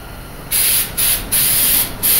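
Four short bursts of an aerosol can of bed liner spraying close by, each lasting about half a second, with brief pauses between them.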